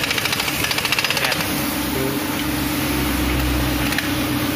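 A Yamaha Aerox scooter with over 25,000 km, its V-belt under inspection, runs loud and close in a steady broadband drone, with quick pulsing at first before settling into a constant roar.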